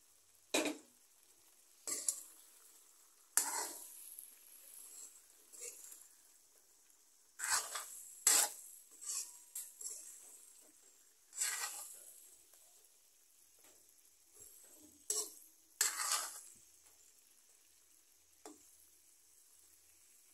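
Masala sizzling and frying in a pan for sole fish curry, stirred with a utensil in repeated bursts of loud scraping and hissing, with quieter sizzling in between and no talk.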